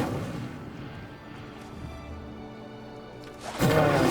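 A spell of fire being cast in the game Hogwarts Legacy. Low rumbling game ambience runs for a few seconds, then a sudden loud whooshing burst of flame erupts near the end.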